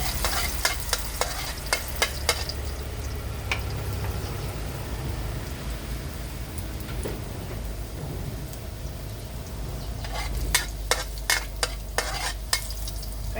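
Pork with garlic stir-fries in hot oil, a steady crackling sizzle punctuated by sharp clinks and scrapes of a spatula against the pan, close and loud, with no voices.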